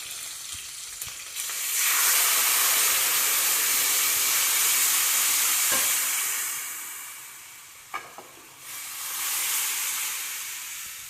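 Green chilies and curry leaves hit hot oil with a loud, hissing sizzle that swells, eases and then surges again. A few sharp utensil clicks sound close by, with no speech.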